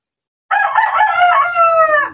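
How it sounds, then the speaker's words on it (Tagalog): A Shamo breed rooster crows once, loud and close, a single long drawn-out call that starts after a short silence and holds steady to the end. "Isang tilaok, Queen Jude, para sa ating mga viewers"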